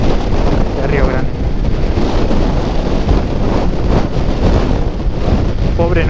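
Strong wind roaring across a road near Río Grande in Tierra del Fuego, loud buffeting gusts hitting the microphone throughout, with faint voices underneath.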